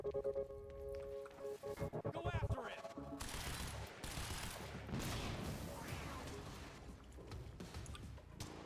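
Rapid light machine gun fire in the Quantum Break video game, sustained bursts rolling on for several seconds after a stretch of game music and effects, loud and dense with some voice underneath.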